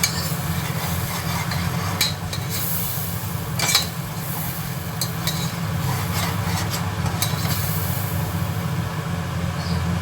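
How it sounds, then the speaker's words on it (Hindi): Potato bhujia base with tomato sauce and salt frying in a pan, a steady low sizzle with occasional scrapes and stirring clinks, no talking. "तीन से 4 मिनट तक आपने इसे भूनना है।"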